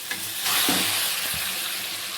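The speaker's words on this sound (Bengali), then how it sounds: "কচু শাকটা ছেড়ে দিচ্ছি।" Boiled taro leaves hit a hot pan with fried shrimp and black cumin seeds, giving a broad steady sizzle with a few stirring scrapes, close and continuous with no talking.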